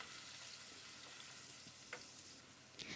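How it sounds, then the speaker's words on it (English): Onion, ginger garlic paste and green chili paste fry in a pot, a steady close sizzle with occasional soft stirring scrapes and no voices. "Fry them for 2 to 3 minutes."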